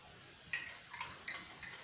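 A spoon stirs an herbal remedy drink for itching, sweetened with honey, in a glass: a handful of light, quick clinks ring out close by in an irregular rhythm, with little else around.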